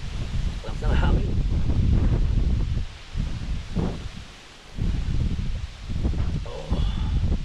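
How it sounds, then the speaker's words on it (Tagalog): Strong, gusty wind buffets loudly and close, roaring in uneven surges with brief lulls between the blasts. "Lakas ng hangin."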